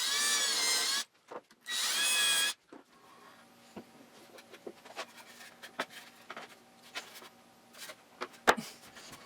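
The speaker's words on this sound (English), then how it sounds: "I can drill in all the mounting holes for it with a self-centering drill bit" A power drill fitted with a self-centering bit whines loudly in two bursts while drilling mounting holes in wood, then scattered clicks, taps and rustles of handling follow.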